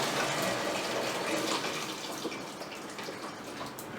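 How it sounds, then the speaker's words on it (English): Boiling water pours steadily into a home-brew container for a Muntons Cerveza beer kit, a broad rushing gush that stays fairly even and close, with no talk over it. "all I'm going to do is fill this with boiling water"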